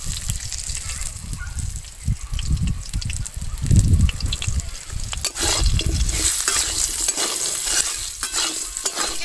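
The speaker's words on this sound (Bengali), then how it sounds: "আলু ভাজা হয়ে গিয়েছে, নামিয়ে দেব।" Potatoes fry in oil in a pan with salt and turmeric, sizzling continuously while a spoon stirs and scrapes them in uneven bursts. Faint talking is heard underneath.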